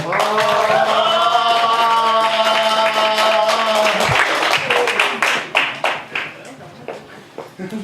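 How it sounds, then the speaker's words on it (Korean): Party members clapping for a deputy-leader candidate at a Labor Party election rally, applause rising under a held musical tone and lingering announcer's voice, then continuing as scattered sharp claps that thin out. "지금까지 중에 가장 뜨거운 박수를 받아본 것 같습니다"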